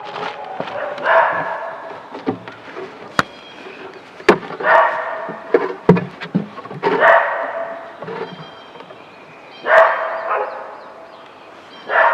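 A dog barks repeatedly outdoors, loud and fairly near, in uneven bursts with sharp knocks and thuds between them.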